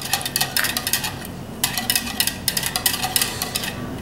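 Spoon scraping and clinking against a bowl while stirring granulated white sugar into sweet Chinese rice wine for a General Tso's chicken sauce, a steady run of close, light metallic taps and scrapes.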